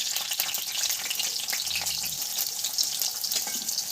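Chopped onion sizzling in hot peanut oil in a pan, a steady close, crackling fry that holds without pause, with no one speaking over it.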